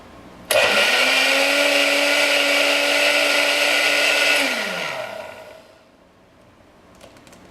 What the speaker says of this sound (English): blend it for 5 seconds on high